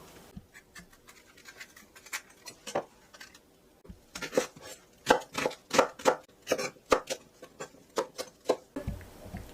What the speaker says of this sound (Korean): 믹서기에 갈기 쉽게 썰어줄게요.